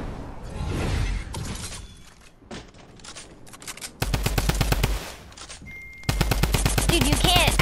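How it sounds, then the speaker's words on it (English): Rapid, punchy shotgun blasts in Fortnite Season 9, fired in close bursts with sharp impacts and loud shots layered over a busy game mix. "I'm gonna land on these kids with the new shotgun"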